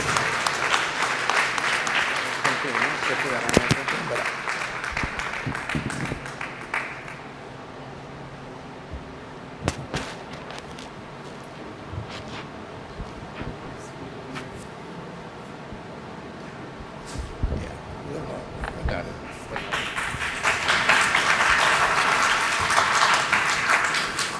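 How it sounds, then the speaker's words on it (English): Audience applause at a college alumni convention in North America swells at the opening, thins to sparse scattered claps in the middle, then rises again into a dense, sustained round of clapping from a large crowd. "Let us give a warm applause for a person who is always thinking for the college."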